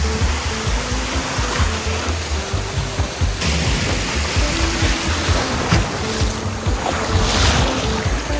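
A small boat with a Vietnamese fisherman motors across open water, its engine droning low and steady as waves slosh and wind buffets close by, with no talking.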